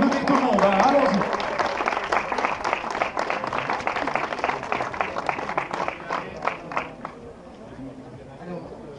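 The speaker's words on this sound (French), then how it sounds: "on peut applaudir tout le monde, hein" An outdoor crowd at a local terroir fair applauds, a loud dense burst of clapping that thins into scattered individual claps and fades, with some murmuring under it.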